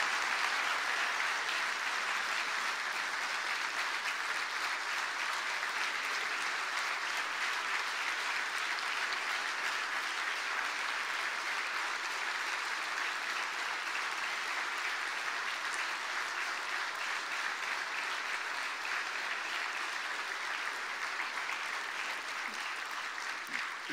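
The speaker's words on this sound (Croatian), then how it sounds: "Zahvalimo joj gromoglaskim pljeskom" Long, sustained thunderous applause from a large audience at a presidential campaign program presentation for Kolinda Grabar-Kitarović, dense steady clapping filling the hall without a break.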